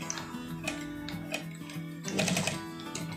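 A sewing machine stitches a jacket pocket with a steady, close mechanical whir and rapid needle ticking that speeds up and grows louder near the end. No voices are heard.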